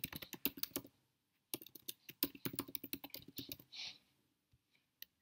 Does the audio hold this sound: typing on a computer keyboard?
yes